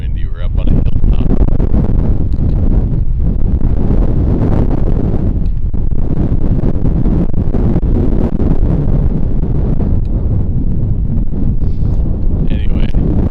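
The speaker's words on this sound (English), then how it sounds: "it's getting really windy. We're up on a hilltop." Strong gusting wind on a hilltop in the North Dakota Badlands buffets the microphone with loud, continuous low roaring and rumbling that never lets up.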